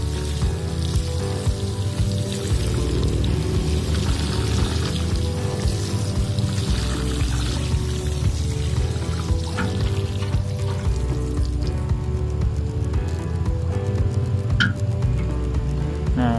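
Fermented rice-washing water pours steadily and continuously onto soil, a constant splashing trickle with faint ticking drips, close by and without voices.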